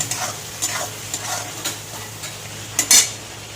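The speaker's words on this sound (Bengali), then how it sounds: "খুব বেশি চিংড়ি মাছ ভাজবো না আমি" Prawns seasoned with turmeric and salt frying in oil, a steady soft sizzle with intermittent stirring scrapes and a louder clatter near the end, close by with no talk.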